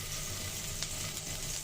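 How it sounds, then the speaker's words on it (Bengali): Marinade spice mix frying in hot oil in a pan, a steady close sizzle that holds evenly throughout the short stretch. "ভালো করে ভেজে নিব যাতে কাঁচা গন্ধটা না থাকে"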